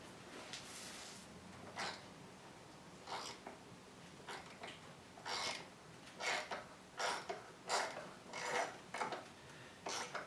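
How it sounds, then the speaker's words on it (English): A greased M6x1 threading tap cuts a thread into aluminum, giving quiet, repeated rasping scrapes in short bursts about a second apart. The bursts grow slightly more frequent toward the end, heard alone in a still room. "now what you need is an M6x1 threading tap, and I've also dipped it into grease"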